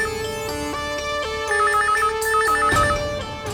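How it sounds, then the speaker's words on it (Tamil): An electronic phone ringtone plays a repeating melodic pattern of bright, steady tones, ringing on without pause at moderate loudness in an indoor office setting. "ஃபோன் அடிச்சிட்டே இருக்கு."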